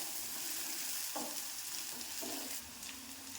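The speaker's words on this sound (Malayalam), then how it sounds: "ചെറിയ ഉള്ളി നന്നായിട്ട് മൂത്ത് നല്ല മണമൊക്കെ വരണം, നല്ല ക്രിസ്പി ആയിട്ട് മൂക്കണം" Shallots frying in a pan for a Kerala moru curry, a continuous crackling sizzle with a few short scrapes of stirring, moderately close and steady, no talking.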